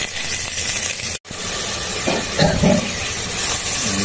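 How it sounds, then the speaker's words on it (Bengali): Ground spice paste (masala) frying in a pan with bay leaf, whole cumin and Kashmiri chilli, a steady loud hiss and sizzle throughout with a short break and a few scraping stirs. "মশলা কষা চলছে, দিয়ে দিয়েছি কাশ্মীরি লঙ্কা।"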